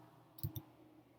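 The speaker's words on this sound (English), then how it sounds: "Right now I'm going to type the A key" A quiet double click as a single key, the A key, is pressed on a computer keyboard. Two short taps come close together against a faint background hum.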